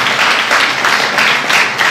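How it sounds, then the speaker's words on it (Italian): A university event audience applauds, a dense, loud wash of clapping that fills the whole moment without pause. "possiamo fargli un applauso"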